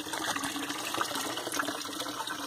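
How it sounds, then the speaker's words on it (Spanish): Water from a hose pours into hydroponic PVC pipes, a constant close splashing gush with no speech. "lo estoy utilizando con una manguera en este momento"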